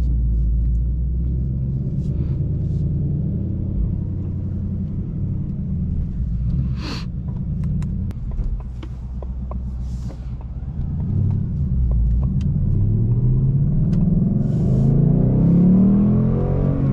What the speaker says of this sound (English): Opened up that exhaust a little bit, probably shouldn't have.